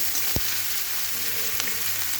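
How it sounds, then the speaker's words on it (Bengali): Onions, green chilli and garlic fry in oil for a dried-fish chutney, giving a soft, continuous sizzle with a couple of light knocks from stirring, and no talk. "পেঁয়াজগুলো হালকা লাল হয়ে ভাজা হয়ে গেছে"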